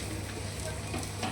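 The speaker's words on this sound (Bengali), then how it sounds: "এরপরে তেল দিয়ে ভেজে নিতে হবে" Methi paratha fries in oil on a pan with a dense, steady sizzle that is loud and close, lasting only a moment, with no clear talking.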